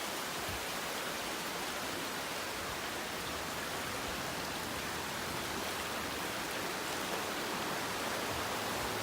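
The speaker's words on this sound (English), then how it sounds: "Starting to rain." Even, hissing patter of rain on the Appalachian Trail, close and constant for the whole stretch, with no speech.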